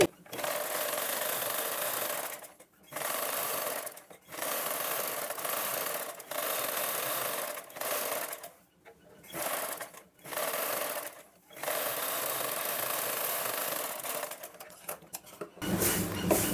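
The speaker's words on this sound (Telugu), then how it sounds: "ఇప్పుడు డబుల్ కుట్ అయితే వేసుకోవాలి" Sewing machine running a double seam on a blouse, sounding as loud close bursts of rapid stitching that stop and restart several times with short gaps between.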